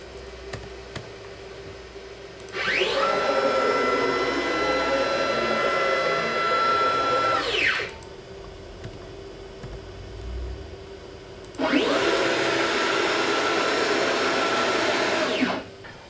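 Stepper-driven CNC router gantry jogging across its bed while cutting a control cavity cover for a six-string multi-scale guitar: two loud sustained whining runs of about five and four seconds, each rising in pitch at the start and falling at the end, separated by quiet shop hum.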